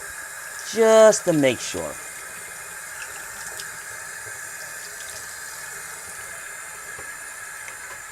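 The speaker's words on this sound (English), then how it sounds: "Let me try rinsing that out first." Tap water runs steadily into a sink while homebrewing equipment is rinsed, a quiet continuous hiss under a brief burst of close speech near the start.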